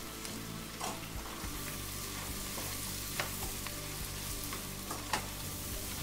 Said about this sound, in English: saute all this together for a little while until the mushrooms cook down just a bit